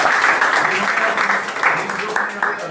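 An audience claps at a spiritual centre event, with a busy, continuous patter of hands that holds fairly steady and a voice intermittently audible beneath it.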